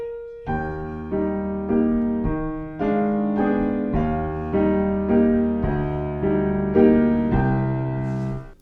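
Piano playing a chordal passage with a melody on top, notes struck in a steady rhythm, close and clear, no talking.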